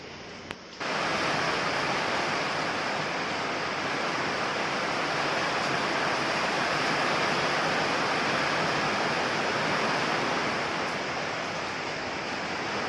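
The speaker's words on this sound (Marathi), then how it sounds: "खूप मोठा पाऊस अचानकपणे आला वारा पण जोराचा सुटला आहे" Heavy Konkan rain roars steadily for several seconds, a dense, unbroken downpour with a gusty, windy hiss from strong wind throughout.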